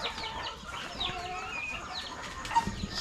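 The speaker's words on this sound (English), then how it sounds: "Look at that chicken over there." Chickens clucking on a farm in the Philippines, soft scattered clucks and calls at a distance over a quiet outdoor background.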